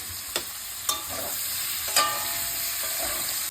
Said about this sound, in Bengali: এগুলো ভালো করে কষিয়ে নেবো